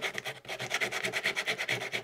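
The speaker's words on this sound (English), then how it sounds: "I'm using the super glue to fill the gaps and then I'm lightly sanding with a heavy, with a 120 grit" Sandpaper of 120 grit rubbing over a super glue-filled wood carving, a quick run of close, rhythmic rasping strokes with a brief pause near the start.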